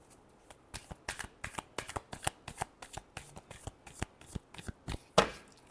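Tarot cards being shuffled by hand in a steady run of crisp riffling slaps, about a dozen close bursts ending in one louder final shuffle, with no talk.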